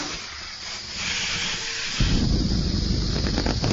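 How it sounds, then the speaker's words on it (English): An air compressor starting up to inflate a balloon: a soft hiss builds, then a loud, steady rushing roar kicks in abruptly and runs to the end, close and continuous with no speech. "Could you switch the compressor on"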